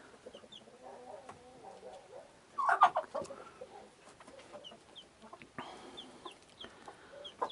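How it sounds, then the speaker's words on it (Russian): Hens cluck and murmur in a chicken coop, a steady low chatter with a brief louder burst of squawking partway through, close by with no talk. "куры они не любят, когда кто-то мелкий там"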